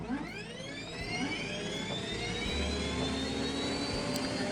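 A Minecraft RotaryCraft jet engine gas turbine with an afterburner upgrade spools up in a loud, steady roar with a rising whine that climbs and holds at high pitch.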